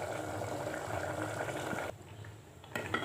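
A pot of beetroot and potato curry bubbling and simmering steadily up close, a busy liquid burble that drops away briefly near the end before returning.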